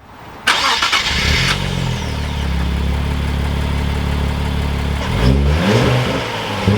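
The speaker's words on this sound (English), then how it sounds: "let's start up each car, get a quick rev clip," Modern manual sports car, one of a 2023 Nissan Z, Toyota Supra or BMW M2, starts with a sharp crank and catch, settles into a loud close idle, then rises in a quick rev before easing back.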